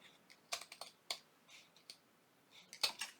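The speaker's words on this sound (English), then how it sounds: "go ahead and trim this lace off of the tag" Scissors snip lace trim from a paper tag in a few quick, crisp cuts, close up and fairly quiet, with short pauses between snips and no talking.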